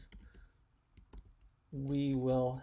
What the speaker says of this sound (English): Typing once again